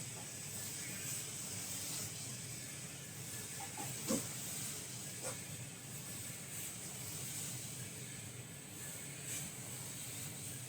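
Butter sizzling in a Metos Viking mix pan with its stirrer running, a steady broad hiss with a few faint clicks of the stirring mechanism, quiet and continuous.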